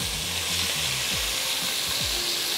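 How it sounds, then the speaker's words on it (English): Beef hissing and sizzling loudly and continuously in a hot pan, a dense close frying crackle with a few low scraping or shifting sounds as the meat sears. "time to sear our beef"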